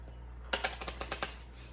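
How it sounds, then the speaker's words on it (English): Tarot and oracle cards being shuffled on a table, a quick run of about eight crisp riffling taps over a low steady hum, close and fairly quiet with no talking. "These are so impossible to shuffle."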